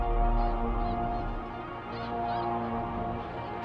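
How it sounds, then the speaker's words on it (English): A huge flock of snow geese passes overhead, their many honking calls blending into a dense, steady clamor at moderate volume that swells and eases slightly throughout, with no talk. "when a flock of thousands of snow geese form a massive moving cloud above us"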